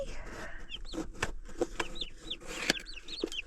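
Six young turkey poults peep and chirp in a box, rapid high chirps scattered throughout at close range with faint handling noise.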